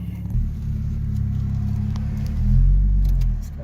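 Deep, loud engine rumble from an Audi B8.5 S4 with a DSG gearbox and CTS intake, swelling as the car pulls away with an intake whine under the growl.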